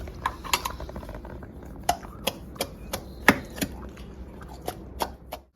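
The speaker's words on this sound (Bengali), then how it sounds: "এবার এখানে আমি আদা আর কাঁচা লঙ্কা থেতো করে নেবো।" Ginger and green chillies being crushed for a carrot, potato and pea curry, giving a string of sharp, separate pounding knocks at an uneven rhythm, close and fairly loud with no talk.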